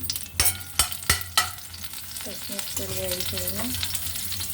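Green chillies fry in a pan with a strong steady sizzle, three sharp knocks of the spoon early on, and a voice speaking briefly toward the end.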